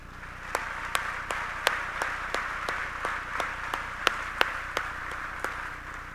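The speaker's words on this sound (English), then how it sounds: "I want to wish each and every mother here a happy Mother's Day with a round of" At a 2025 Harrisburg graduation ceremony held on Mother's Day, the crowd applauds mothers: sharp, distinct handclaps ring out irregularly, roughly every half second, over a steady murmuring background.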